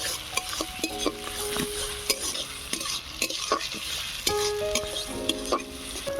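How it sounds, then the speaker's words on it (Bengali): Onion and garlic paste frying in a pan for a banana-flower curry, with steady sizzling and repeated scraping and stirring strokes of a spatula against the pan, close up with no talk. "পেঁয়াজ রসুনটাকে ভালো করে ভেজে নেব।"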